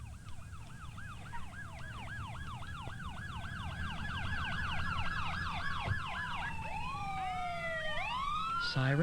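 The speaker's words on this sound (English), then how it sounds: "Sirens?" Several emergency sirens wail at once, overlapping wavering tones that sweep up and down, loud and close, with a low traffic rumble beneath.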